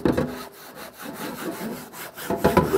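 A fish being scrubbed on both sides in a kitchen, with a quick series of rough, rasping strokes, close and fairly loud in an uneven back-and-forth rhythm.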